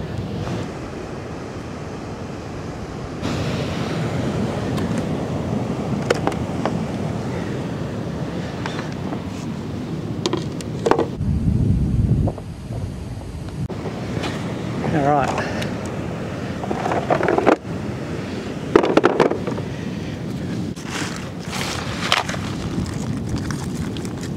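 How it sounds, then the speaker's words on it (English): Waves break against a rugged, rocky coastline amid gusting wind. A steady roar of surf and wind buffeting the microphone runs throughout, with louder swells rising and falling. "those waves are breaking all around me"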